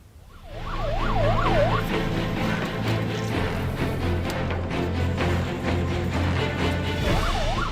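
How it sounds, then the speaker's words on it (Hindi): An ambulance fitted with life-support equipment and oxygen cylinders races along a town road with its siren wailing loud and steady, rising and falling over a low rumble of traffic, fading briefly and then returning near the end. "जीवन रक्षक उपकरणों और ऑक्सीजन सिलेंडर से लैस सायरन बजाती हाईटेक एम्बुलेंस मुसावनी की सड़कों पर दिन रात दौड़ रही है।"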